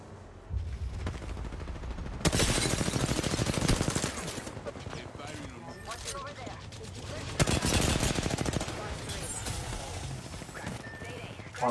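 Gunfire in the Apex Legends video game, heavy automatic bursts starting around two seconds and again near seven seconds, loud and close, with game sounds and effects between the volleys.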